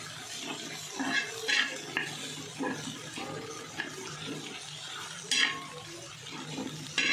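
Fenugreek leaves tossed with crushed peanut powder in a pan, with scraping stirs and soft clinks of a spatula against the metal, sharper scrapes near the middle and end.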